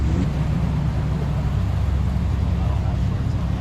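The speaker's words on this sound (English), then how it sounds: "Guys, like, what a traffic jam!" Idling hot rods and classic cars, including an AMC and a Mercedes, sit bunched up in a traffic jam on a road trip near Champaign, Illinois; a steady low engine rumble fills the scene, close and continuous.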